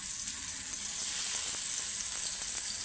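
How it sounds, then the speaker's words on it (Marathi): Stuffed brinjals frying in hot oil in a pan on a gas stove, a steady, close bright sizzle with crackling pops throughout. "आता आपण ते गॅसवर फ्राय करून घेऊया"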